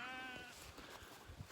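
Sheep bleat as they are let out of a pen, a few wavering calls close by at the start, then rustling and shuffling movement with further faint bleats.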